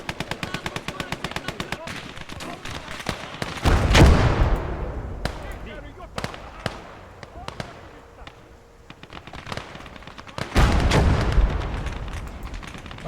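Artillery fire from the video game Blood Red Snow, with rapid bursts of shots and two heavy booming impacts rolling out, amid ongoing battle crackle; a voice speaks at points.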